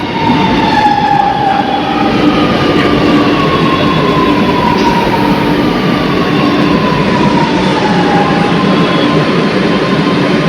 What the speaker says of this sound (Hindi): मेट्रो आ चुकी है, ये देखो गाइस